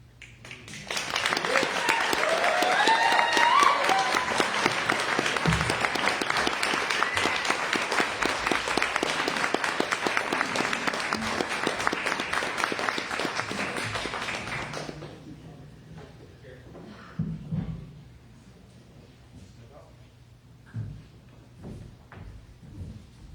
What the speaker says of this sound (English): Another round of applause for Alan.